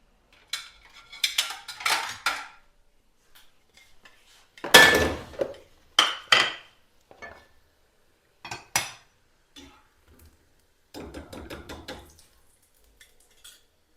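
Shami kababs are dished out onto a plate in bursts of metallic clinks and scrapes, utensils knocking against dishes with quiet gaps between the clatters.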